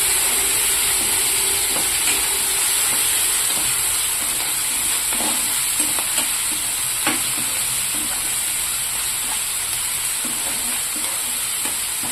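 Tempering sizzling in hot oil as coriander and curry leaves are added at the end, a constant loud frying hiss with occasional soft stirring scrapes and no talk.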